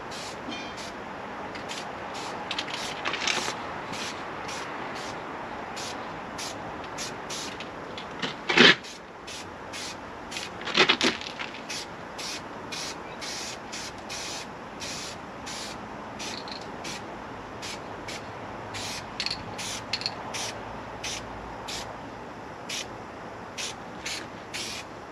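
High build primer sprayed onto a scratched car body: a steady close hiss runs throughout, broken by frequent sharp clicks and taps and two brief louder bursts.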